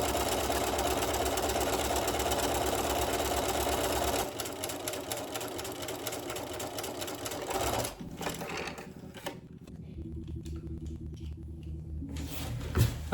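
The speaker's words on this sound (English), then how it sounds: "then we can sew it down from both sides" Sewing machine stitching pants fabric while making shorts, a steady mechanical whirring run that slows into intermittent short bursts of stitching with pauses, close and clear with no talking.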